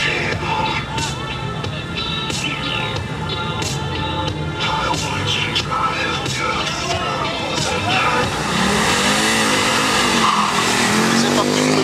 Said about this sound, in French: C'est parti pour le quattro.